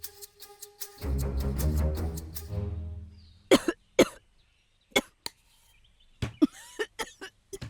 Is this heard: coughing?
yes